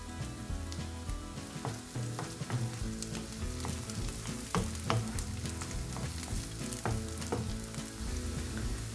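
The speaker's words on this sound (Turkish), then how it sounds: "Biraz da biberlerim kavrulacak." Chopped peppers with garlic sizzle and crackle steadily in hot oil in a pot, with scattered pops and occasional stirring, no talking.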